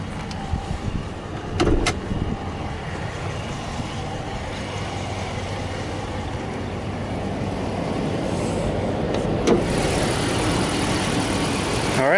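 A 2014 RAM 1500 Laramie crew cab's 5.7-liter Hemi V8 idles under an open hood, a steady low rumble with a couple of sharp clunks near the start and the engine note swelling slightly toward the end.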